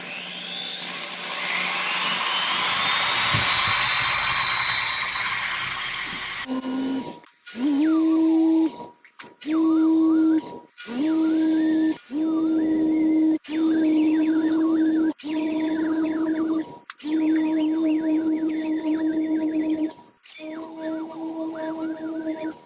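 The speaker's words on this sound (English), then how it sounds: "Best way is just drill the spot weld out" A power drill whines steadily, drilling out a spot weld on a 2020 Dodge's front bumper support with a dull bit, boring into metal in repeated bursts with short pauses between, preceded by a long, harsh grinding stretch, loud and close.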